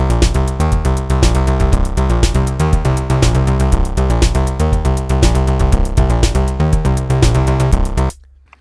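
Another pattern from an Erica Synths DB-01 bassline synth with drums, dense rhythmic bass sequence and beat playing loudly and continuously before cutting off near the end.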